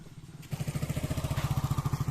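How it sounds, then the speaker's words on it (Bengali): A motorbike on a rough concrete village road on an Indian island, its engine putting out a rapid, even throb that starts abruptly and holds at moderate loudness, fairly close, with no speech. "একটা বাইক আসছে"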